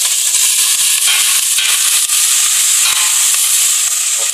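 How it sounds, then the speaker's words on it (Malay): Onions sizzling loudly in hot oil in a pan while cooking Sarawak bubur pedas, a steady, close, continuous frying hiss with no voices. "tumiskan bawang semua"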